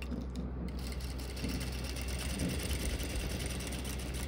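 A sewing machine stitches formal trouser fabric with small, close stitches, giving a steady mechanical hum and rapid whir that runs continuously throughout at moderate volume.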